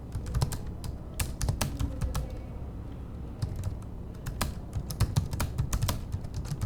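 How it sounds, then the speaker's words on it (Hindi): Typing on a computer keyboard: close, irregular clusters of crisp key clicks with short pauses, no voices. "तो ये इस तरह से आपने टाइप करना है"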